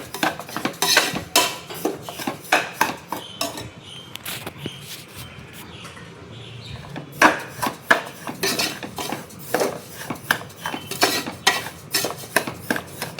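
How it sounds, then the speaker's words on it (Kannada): Bansi semolina roasting dry in a pressure cooker while a spoon stirs it, giving repeated quick scraping clatters against the metal with a brief quieter pause midway. "ಬನ್ಸಿ ರವೆ ಚೆನ್ನಾಗಿ ಹುರ್ಕೋಬೇಕು"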